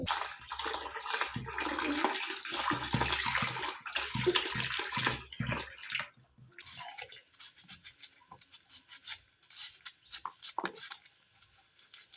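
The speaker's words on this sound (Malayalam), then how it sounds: "ഉരുളക്കിഴങ്ങും സവാളയൊക്കെ നന്നായിട്ട് കഴുകി ഒക്കെ എടുക്കുന്നുണ്ട്" Peeled potatoes and onions are rinsed in water in a village home kitchen: loud, continuous splashing and pouring for about six seconds, then quieter drips, trickles and light clinks, with no talking.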